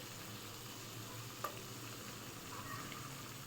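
Cut carrots are stirred into hot oil and masala for a rustic-style vegetable pulao, making a steady close sizzle with a faint stirring scrape and one brief clink partway through.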